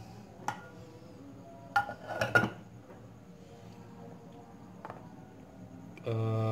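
A metal lid settles onto a cooking pot of simmering Minang sambalado cangkuak, with several sharp clinks and rattles in the middle and a louder clatter near the end, over a quiet kitchen background.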